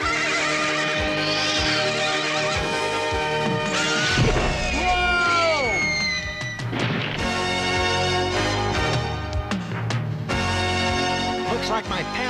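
A horse whinnies loudly amid music and crashing impacts, its neigh rising and falling sharply near the middle.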